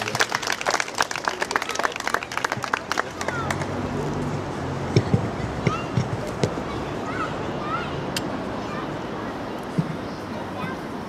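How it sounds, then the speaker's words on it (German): Scattered applause from an outdoor vigil audience in Braunschweig, loose claps rising and thinning over a steady crowd murmur, with voices chattering in the background throughout. "Applaus für Zeynep."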